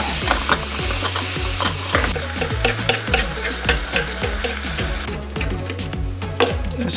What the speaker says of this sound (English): Frozen beef chip steaks. And I'll use 2 forks to shred it while it's cooking.